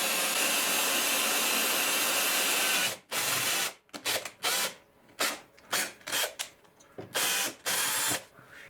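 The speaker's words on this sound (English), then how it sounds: "the drill I'm using, back down to Harbor Freight, that come from Harbor Freight. It was their Warrior brand of drill" A Harbor Freight Warrior electric drill bores into a Mercury Sable rocker panel, first in one long continuous whine, then in a string of short bursts with brief pauses between them, close and loud.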